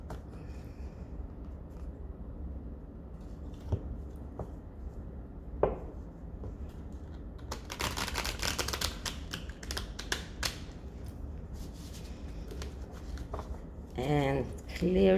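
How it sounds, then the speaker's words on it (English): Tarot cards being shuffled by hand, a crisp riffling flutter of cards up close that comes in short bursts between quiet stretches, with some soft tapping as the deck is handled. "shuffle the deck."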